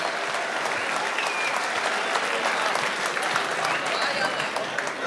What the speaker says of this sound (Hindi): जोरदार तालियों से एक बार स्वागत किया जाए अमन अक्षर का